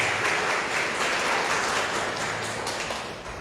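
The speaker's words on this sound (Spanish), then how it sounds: "Fuerte tus palmas para Él, hermano" Church congregation clapping hands in praise, a steady wash of many palms that stays strong for about three seconds before fading slightly at the end, with no speech over it.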